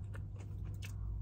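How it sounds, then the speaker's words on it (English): Crunchy bites and chewing while eating grubs, a few soft crisp crunches close to the mic over a steady low hum, with no talking. "Hear it crunching."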